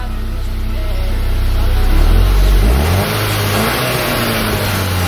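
A modified MK6 VW GTI engine with a resonator-deleted exhaust revs up loudly from idle, swelling to a deep roar at its peak before dropping back to a steady rumble, heard close with no talk.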